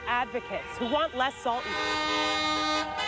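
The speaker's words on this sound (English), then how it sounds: "If you heard snowplows like these making their way around the Capitol Square on a day like today," Snowplows sound their horns in repeated wavering toots around the Capitol Square during a rally against road salt, loud and close, while a reporter talks over them.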